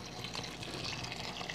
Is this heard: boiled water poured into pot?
yes